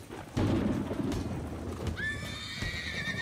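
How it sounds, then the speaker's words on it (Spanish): A frightened horse whinnies loudly over steady clip-clopping hooves during a storm, with rumbling thunder, wind and rain in the background. "Asustado, el caballo escapó del establo y se dirigió a un campo cercano."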